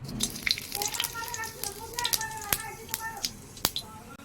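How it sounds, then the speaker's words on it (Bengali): Cumin, cardamom, cinnamon and a bay leaf drop into hot oil in a heated kadai for a Bengali potol chicken curry, giving a close, steady sizzle with sharp crackles and pops, while a voice speaks over it. "জিরা এলাচ দারচিনি আর একটা তেজপাতা এগুলো আমি এখন এই তেলের মধ্যে ছেড়ে দেবো"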